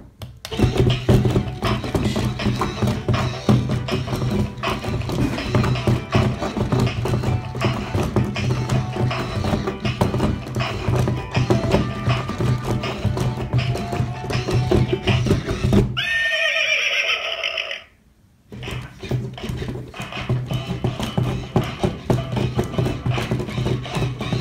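Barbie's dancing toy horse from the Puppy Chase playset gives an electronic neigh and whinny with clip-clop hoofbeats over a whirring, ratcheting gear mechanism. The sound plays loud and continuous, breaks off briefly near the end, then resumes.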